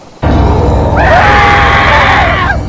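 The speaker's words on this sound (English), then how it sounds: "The sound she made was like a zombie choking on blood." A woman's loud, harsh snarl like a zombie choking on blood bursts in abruptly and holds as a sustained guttural growl with rising and falling tonal strains, close and intense, in an animated trick-or-treat horror tale.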